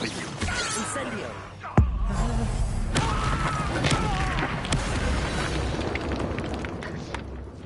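A fire spell cast in the Hogwarts Legacy video game, a sharp burst of flame with a whooshing boom that rises out of busy, continuous combat noise and then rolls on under it.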